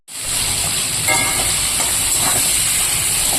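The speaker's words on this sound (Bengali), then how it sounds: "তো এবার আমি মাছটাকে ভেজে নেব" Fish, a salted hilsa rubbed with salt and turmeric, sizzles in hot oil in a kadai, a steady loud hiss and crackle running continuously throughout with no talking.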